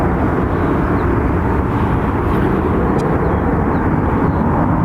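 A JetBlue airliner arriving at Dublin Airport produces a loud, unbroken wash of engine roar and rushing air that stays constant and close.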